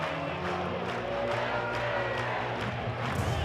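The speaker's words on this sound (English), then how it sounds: "This crowd's fired up." Baseball crowd at a Tennessee vs Clemson college regional game roars after an RBI double, a dense, sustained wall of cheering and yelling that stays loud and steady throughout.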